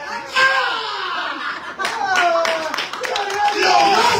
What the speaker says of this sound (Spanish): Pero usted aplaude